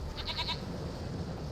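A goat bleats once in The Witcher 3, a short wavering cry with a few quick pulses, fairly close, over a steady low ambient background.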